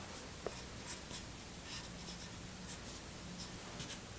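A pencil sketches a winter figure on paper, making quiet, close scratching strokes in short irregular bursts against a soft background hiss.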